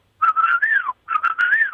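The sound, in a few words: whistle imitation, used to call a German Shepherd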